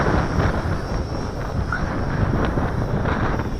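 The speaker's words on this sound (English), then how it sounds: "it can fight the wind. That's a hell of a wind." Strong gusting wind buffeting the microphone while a JJRC H12C drone flies outdoors on a windy day, a continuous loud low rumble with no voices.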